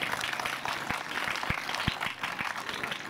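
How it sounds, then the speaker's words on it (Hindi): Dense applause from an audience at a school Independence Day (14 August) function in Karachi, steady continuous clapping with a few sharper individual claps standing out, filling the whole stretch. "मेरी तरफ से इनके लिए बहुत सारी तालियाँ।"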